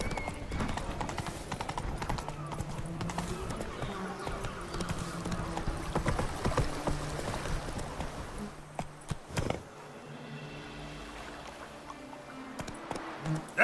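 Horse hooves galloping in The Witcher 3, a continuous rapid clip-clop under game music and ambience, fading near the end, with a brief voice.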